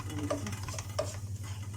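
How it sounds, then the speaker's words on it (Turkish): Halva stirred and roasted in a pan, giving soft scraping strokes of a spoon through the grainy mixture, with a steady low hum underneath; close and fairly quiet, with no talking. "Şöyle iyice bunu güzelce kavuruyoruz."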